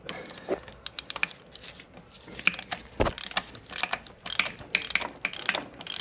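A ratchet backs out the 14 mm starter motor bolts on a Bedford Rascal during a strip-down, making irregular, close bursts of sharp clicks with brief pauses between strokes, and no talking.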